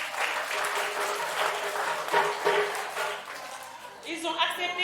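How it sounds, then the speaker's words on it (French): Audience at a children's Christmas tree celebration in Kédougou applauds the event's sponsors, a dense, steady clapping that fades slightly near the end as a few brighter tones rise. "Mme Si Neraki Maïmouna Niang, que je vous demande d'applaudir très fort."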